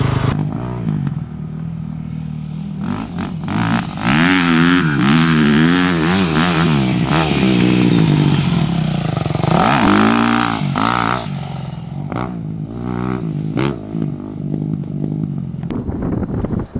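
Motocross dirt bike ridden hard around a rough sand track at Kamloops, the engine close and loud, revving up and down in repeated surges with clattering over bumps.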